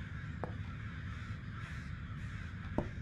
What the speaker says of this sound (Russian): А, ворона влетела.